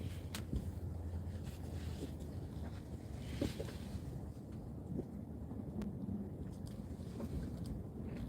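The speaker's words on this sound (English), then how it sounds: "Oh, we got heavy winds coming." Heavy wind buffets a fishing boat at sea, a steady rushing roar with microphone buffeting and occasional faint knocks. The sound is continuous and fairly quiet, with no voices.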